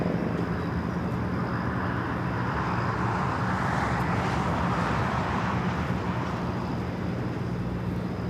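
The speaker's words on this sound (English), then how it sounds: "Very nice Dreamliner." Boeing 787 Dreamliner airliner at LAX, a continuous broad jet engine roar heard from a distance, swelling slightly toward the middle, with no voices.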